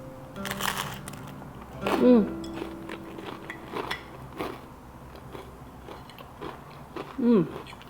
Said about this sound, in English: I love the crunch of a multigrain toast